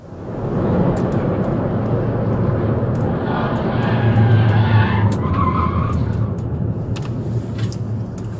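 An impaired driver loses control of his car at night, with a long, loud, continuous tire skid and roaring engine and road noise up close that persists for several seconds, without a distinct impact.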